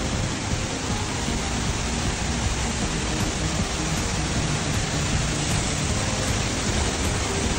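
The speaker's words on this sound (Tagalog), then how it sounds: "Oh, yan ang falls oh." Old Casaroro Falls gives a loud, steady broadband roar of falling water, constant throughout with no breaks, nearby and alone.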